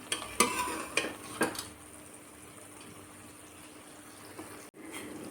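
Cooked mutton being stirred into a masala frying in oil, heard as a few scraping spoon strokes over a soft sizzle near the start, then quieter cooking noise.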